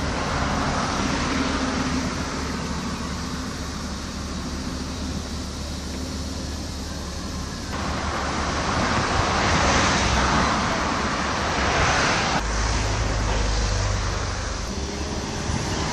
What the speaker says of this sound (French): Il y a des camions qui déposent les roches comme en ce moment